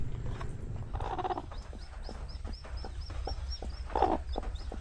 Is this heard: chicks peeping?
yes